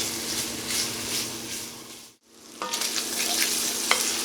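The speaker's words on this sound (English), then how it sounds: "I'm gonna go ahead and saute this for about 3 minutes and brown this for about 3 minutes or so" Andouille sausage sizzles and browns in a Dutch oven with a loud, steady frying hiss, briefly cut off and then resuming, with occasional stirring clicks close by.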